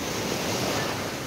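Sea waves washing onto the shore, a brief, steady rush of surf mixed with wind buffeting the microphone, with no voices.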